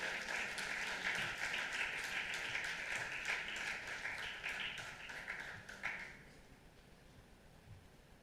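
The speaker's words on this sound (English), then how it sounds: "Ladies and gentlemen, join me with a big round of applause to our secretary" At the Maritime HR Conclave 2025, an audience claps for the club secretary. The applause is fairly quiet and roomy, holds steady for about six seconds and then fades away.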